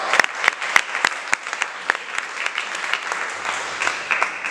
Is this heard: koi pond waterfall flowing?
no